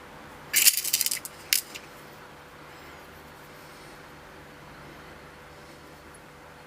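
A tiny lock cylinder pin dropping onto a hard surface while rekeying a door handle lock, heard as a brief cluster of light metallic clicks and rattles, then a second small tick, before quiet room hiss.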